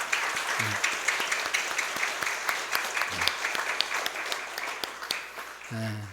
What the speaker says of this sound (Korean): 한번 일어나시면 박수하겠습니다